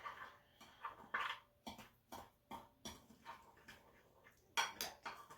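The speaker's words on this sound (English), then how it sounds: "stir that up till all the crumbs are moistened" Stirring graham-style crumbs moistened with melted butter in a bowl for margarita bars, heard as soft, irregular scrapes and clinks of a utensil against the bowl, fairly quiet, with no talking.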